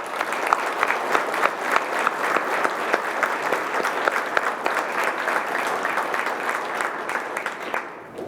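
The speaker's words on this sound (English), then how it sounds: "I'm going to pause and ask to give a round of applause to that group of people." An audience at Winter Park's 2023 State of the City address gives the police and fire departments a round of applause, with hearty, even clapping that tapers off in the final second.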